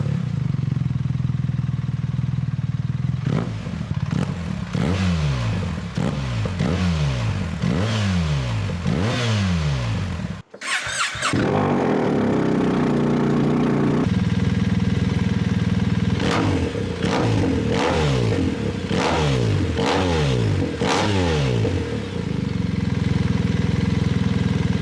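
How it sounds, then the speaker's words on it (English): A BMW R1300GS motorcycle fitted with Black Widow exhaust headers starts up and idles, then revs repeatedly in sharp rising blips, cuts off briefly, restarts and revs again, loud and close. "So let's start the bike and see how it sounds."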